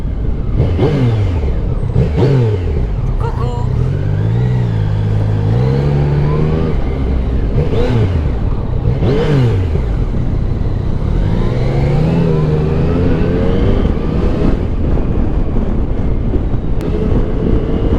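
A Yamaha Tracer 900 GT motorcycle with luggage cases accelerating in second gear, the engine note rising and falling through repeated revving pulls, heard close over constant loud wind rush on the microphone.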